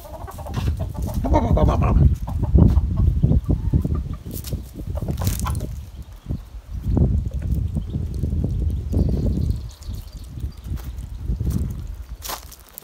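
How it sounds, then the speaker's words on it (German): A rooster clucks and calls loudly and close at feeding time, in repeated bursts of throaty clucks with short pauses between them. "ich gehe den Hahn füttern"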